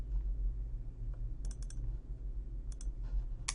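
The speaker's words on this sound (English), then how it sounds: "I'm going to right click and I'm going to say add existing item" A computer mouse clicking a few times over a steady low hum, short crisp clicks in small clusters, with no talking.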